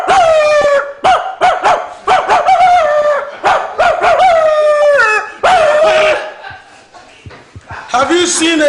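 A voice imitates a dog, giving a string of loud barks and drawn-out howls in short bursts close to the microphone, broken by brief pauses and a chuckle.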